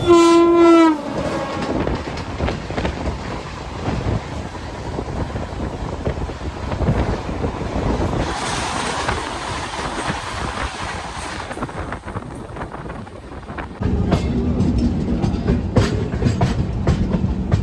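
An LHB Hemkund Express passes on an Indian railway line, opening with a loud horn blast and followed by sustained rumbling wagons and clickety-clack wheels, with wind buffeting the microphone.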